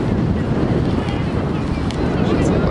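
Steady, roaring wind buffets the microphone throughout at a winter fishing spot in a Buenos Aires park, a dense broadband rumble with no clear pauses.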